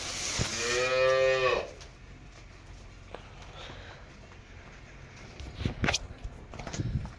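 A cow on a Gujarati dairy farm gives a single loud, close moo lasting about a second, followed by quiet shuffling and footsteps nearby.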